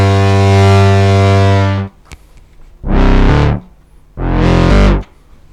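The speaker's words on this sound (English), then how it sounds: "Let's also use the distortion." Heavily distorted Novation Peak synth tones played via breath controller, one long sustained note followed by two shorter loud blasts, each harsh and buzzing with brief quiet gaps between.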